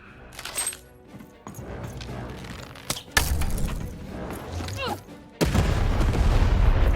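Heavy booming cannon blasts and crashing impacts from the video game Lost In Random, loud and repeated, with bursts of noisy rumble between them.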